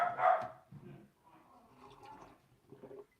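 A pair of dogs bark a few times indoors, with one loud bark at the start and then quieter, scattered barks and yips mixed with a voice speaking.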